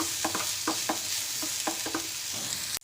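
Onions frying in a pan for stuffed capsicum gravy hiss steadily while a spoon scrapes through them in quick repeated strokes, close and fairly loud, ending abruptly.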